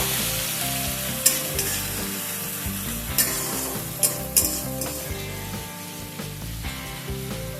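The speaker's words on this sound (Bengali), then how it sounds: "সামান্য একটু সময় নিয়ে পেঁয়াজটাকে একটু নাড়াচাড়া করে নেব" Crushed onion fries in hot oil for a Bengali fish curry, a loud steady sizzle with the spoon stirring and knocking against the pan at intervals, and no talking.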